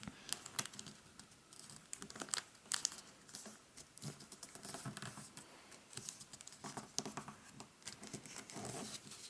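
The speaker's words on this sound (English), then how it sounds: "fold this bit in half to meet the top edge" Sheets of origami paper are folded and creased by hand, giving soft, close crinkles and taps in irregular bursts.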